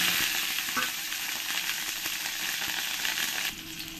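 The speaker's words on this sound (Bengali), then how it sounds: "এবার আমি প্রথমেই আলুগুলো আমি একটু লাল লাল করে ভেজে নেব।" Potato pieces frying in hot mustard oil make a loud, dense, continuous sizzle close by, with faint scrapes and clinks now and then.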